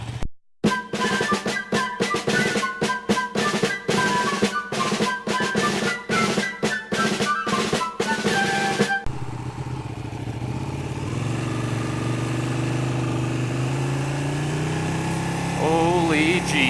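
A 2015 Ducati 1299 Panigale S engine revved hard in rapid, loud, choppy blips, then settling into a steady rumbling idle with a rising whine near the end, close by.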